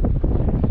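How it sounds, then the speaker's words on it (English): Steady wind buffets the microphone aboard a sailboat anchored off Isla Espiritu Santo in the Sea of Cortez near La Paz, a continuous low rumbling rush with no voices. "And it's windy today."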